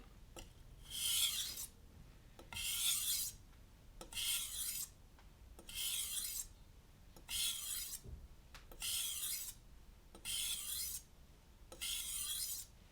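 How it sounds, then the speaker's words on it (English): A kitchen knife is drawn across a whetstone in a steady, even rhythm of about eight gritty rasping strokes, each lasting around a second with short pauses between, close and quiet with no talking. "You're allowing the weight of your hands and the weight of the knife to do the work, and the grit of the stone to do the work for you."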